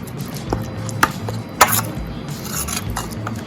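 Raw mango pickle being stirred with jaggery in a bowl, giving soft scraping and a few sharp clinks of a spoon against the dish, close up with no talking.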